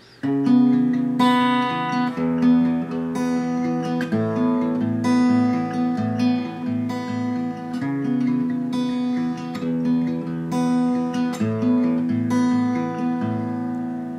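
An acoustic guitar picks the bridge of a song in a steady fingerpicked pattern of ringing chords, notes overlapping in a flowing rhythm, played close and clear with no voice.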